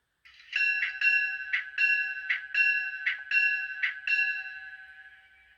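Bell of a Walthers Proto SD9 model diesel locomotive rings in a steady, even rhythm of about nine clear metallic strokes, bright and close, fading slightly at the end with no talk over it.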